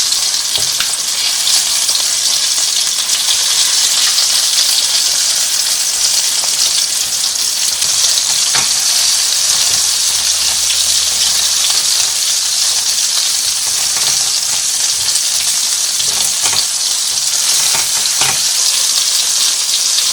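Chicken wings fry in a pan over low heat, a loud, steady, dense sizzle with occasional clicks of the pieces being turned.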